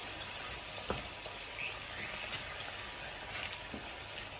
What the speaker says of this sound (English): Everything is sizzling here, guys. All sizzle and all these flavors smell so good.